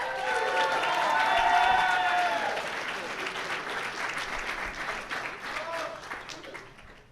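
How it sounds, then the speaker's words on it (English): An audience at a longsword tournament awards ceremony gives a full round of applause that swells early and then fades, with voices talking over it. "A round of applause, please."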